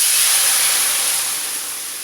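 Water poured into a hot, oil-free pan of 700 grams of browning minced meat for oven karnıyarık hisses up in a loud, steady sizzle of steam that eases slightly toward the end.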